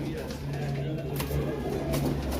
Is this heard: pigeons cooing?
yes